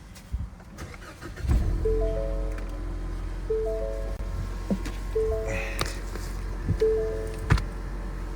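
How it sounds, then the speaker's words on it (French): A Ford Mustang cranks over and fires up, a low engine rumble settling in beneath scattered chirps, beeps and faint background rustle, with no talking. "démarre la voiture"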